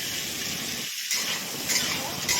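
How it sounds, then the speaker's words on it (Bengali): Chopped onions fry in hot oil for a Bengali rui fish curry, giving a loud, steady hiss that breaks off for a moment and then returns. "পেঁয়াজ কুচি দিয়ে বেশ কিছুক্ষণ ভেজে নেব, লাল হওয়া অবধি"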